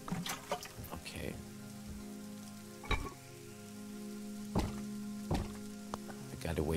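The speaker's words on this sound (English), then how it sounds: "It's raining right now" Rain falls in the Green Project video game as a steady, soft patter with a few sharp knocks and thuds scattered through it.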